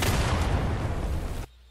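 Dense, continuous gunfire from enemies and a tank in a video game, a loud unbroken roar of overlapping shots and booms that cuts off abruptly near the end.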